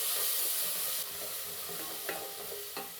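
Garlic ginger paste hits fried onions in a hot pan for a chicken dish, giving a steady, close sizzle with soft scraping stir strokes.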